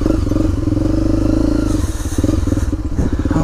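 Two-stroke dirt bikes ride away in a loud, close, continuous engine drone with a rough pulsing texture and slight rises in pitch.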